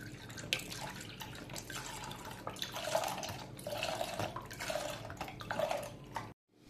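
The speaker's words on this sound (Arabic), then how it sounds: "غادي ناخذو نص سيترو ديال الحليب باش نوجدو الكريمه، ما يعادل 500 مليلتر." Half a litre of milk poured for a pastry cream, a steady liquid stream with dripping, splashing texture running continuously for several seconds before stopping abruptly.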